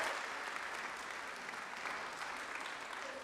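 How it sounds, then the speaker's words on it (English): Audience applause for award winners at an academic awards ceremony, a moderately distant, steady wash of clapping from the crowd lasting a few seconds. "clap for them"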